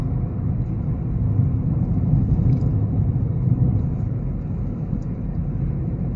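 Steady low road rumble and engine drone heard from inside a car driving through Melaka, Malaysia, continuous and fairly loud with no talking.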